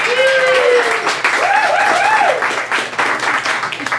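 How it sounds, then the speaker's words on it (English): Audience applause at a comedy roast, loud and sustained, with a voice and whoops or shouts riding over the clapping throughout. "that is officially the most applause you've ever had in your sad, pathetic life"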